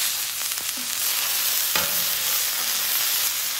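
A Cajun crawfish burger sizzles loudly and steadily on a griddle after being flipped, a continuous close hiss with brief scrapes and a clank from the spatula.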